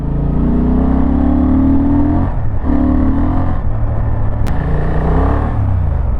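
A Honda Transalp XL750 motorcycle pulls hard through its gears, a loud, close engine rumble that rises, dips briefly at a shift around the midpoint, then climbs again, with a short sharp click near the end.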